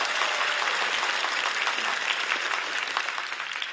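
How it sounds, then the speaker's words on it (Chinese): An audience at a stand-up comedy show applauds after a manzai double act, a dense, sustained wash of clapping that stays loud and fades slightly at the end. "掌声再次送给二位。"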